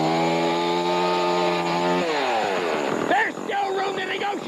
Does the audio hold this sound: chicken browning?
no